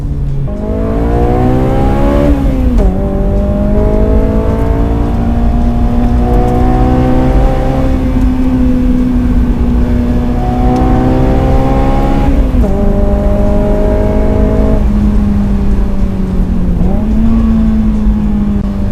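Honda S2000 engine on a mountain pass road, revving hard in a loud, sustained drone that climbs through the gears with several sharp shift dips, heard from inside or very close to the car, with no talking.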